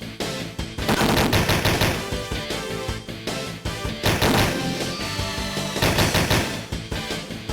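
Gunfire from a Sega CD video game comes in loud rapid bursts of repeated shots, close and sharp, with brief gaps between volleys.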